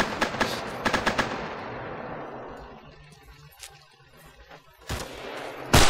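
Rapid bursts of automatic gunfire crack out close by in the video game Insurgency, tapering into a quieter stretch with distant shots before another sharp burst near the end.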